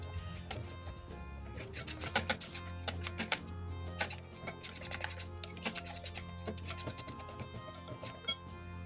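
Custard ingredients being mixed with powdered milk: a faint, steady run of light scraping and ticking strokes in an irregular rhythm, close by with a low hum underneath and no talking.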